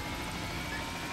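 A helicopter in the racing game Need for Speed: Hot Pursuit 2 gives a steady droning rotor and engine hum, constant in level and without talk.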